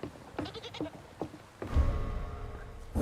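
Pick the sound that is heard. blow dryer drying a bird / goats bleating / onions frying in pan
goats bleating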